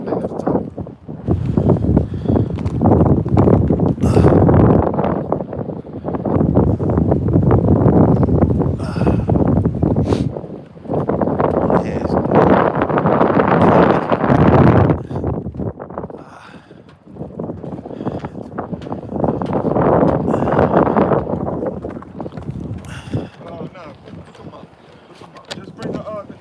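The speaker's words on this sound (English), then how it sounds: "Damn, I didn't think it was going to be this windy." Strong outdoor wind batters the microphone in long roaring gusts, loud and rumbling with brief lulls, while people talk intermittently.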